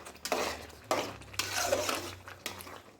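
Spoon scraping and stirring a tamarind pickle mixture in a pan, several close, irregular scrapes and clinks at a moderate level with no talking.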